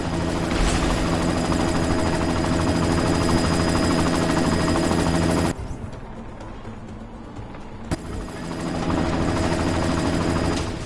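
A helicopter in the video game Deus Ex: Mankind Divided roars with a loud, steady rotor drone that cuts out briefly midway, leaving a quieter gap, then returns at full strength.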